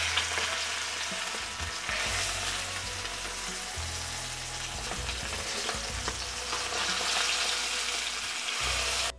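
Fish sizzles steadily in a hot pan, a loud continuous frying hiss with occasional spattering bursts throughout, no voices present.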